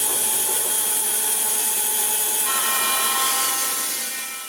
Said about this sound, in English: I do this on the bandsaw because with slight twist and warping, it's not safe to do this on the table saw.